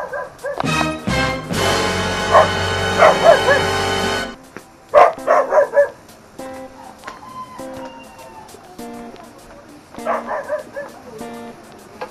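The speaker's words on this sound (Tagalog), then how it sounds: "Mga aso." Dogs bark and yip near the Dampalit Falls trail in Los Baños, Laguna, with a loud burst of close barking, then scattered yelps and whimpers, and people talk faintly in between.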